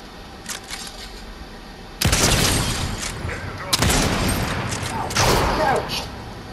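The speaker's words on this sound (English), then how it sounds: "It's a shotgun." Shotgun blasts and gunfire bursts in the video game Fortnite, three loud, sharp hits with rattling tails over a steady background of game ambience.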